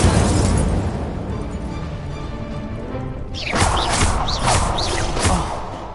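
Incendio fire spell blasts cast in Hogwarts Legacy, a sustained roaring burst followed by several sharp whooshing flares in quick succession, loud and close.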